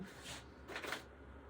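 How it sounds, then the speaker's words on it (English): Tarot cards being shuffled by hand, two quick papery riffling bursts close up with no talking. "So we'll shuffle these 3 times."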